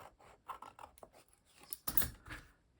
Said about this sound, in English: I would turn it over and cut it from the other side